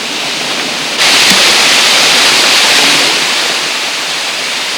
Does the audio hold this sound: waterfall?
yes